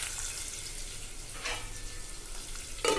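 Seasoning frying in a pan for beetroot fry, a soft steady sizzle that stays faint with a brief louder clatter near the end.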